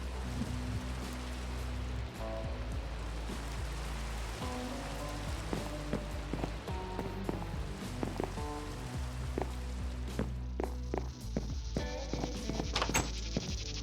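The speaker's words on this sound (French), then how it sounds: "Ça va calmer la pluie." Steady rain falls in a Minecraft survival world, a constant patter with scattered drips and short game sound effects over it, and no one talks.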